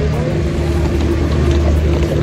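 Boat engines idle and drone steadily near Monkey Beach on Phi Phi Island, a continuous low rumble with some water and wind noise throughout.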